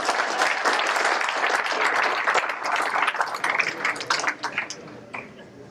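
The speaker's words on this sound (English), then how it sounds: "So we get an applause for that." An audience at a recognition event applauds with brisk, dense clapping that thins into scattered individual claps toward the end.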